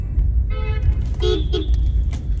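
Car horns honk in city traffic, a short beep followed by two quicker toots over a constant low rumble of engines and road noise.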